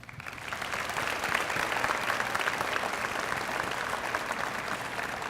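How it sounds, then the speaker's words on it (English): Students in an evening event audience give a sustained round of applause on behalf of donors, a steady dense wash of clapping that holds at an even level throughout. "ask the students to join me in a round of applause on the donors' behalf"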